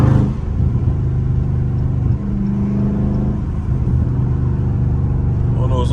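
A loud Dodge Scat Pack Charger exhaust rumbles and revs in traffic, its deep drone steady and close with echoing reflections; a voice talks over it at times.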